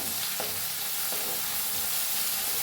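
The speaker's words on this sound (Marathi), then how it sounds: "त्याला हलवून भाजून घेऊया चांगलं" Crushed garlic stirred and roasted in a hot pan, a loud continuous sizzle with a couple of sharp spoon scrapes.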